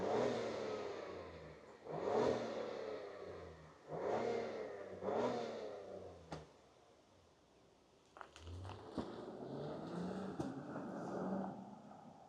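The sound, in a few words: 2025 Acura MDX Type S engine starting and revving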